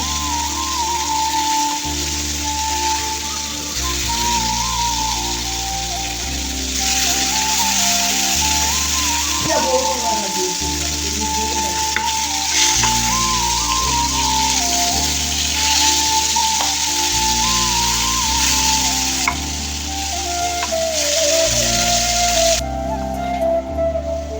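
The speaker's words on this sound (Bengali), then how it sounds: "তো আমি আর এক পিঠ উল্টে দিচ্ছি ভাজার জন্য।" Rohu fish pieces fry in a pan with a steady, continuous sizzle and fine crackle throughout, with a faint whistling tone running beneath and a brief scrape partway through.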